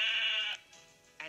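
A sheep bleats loudly and close by, a wavering cry, followed by a quieter bleat and the start of another.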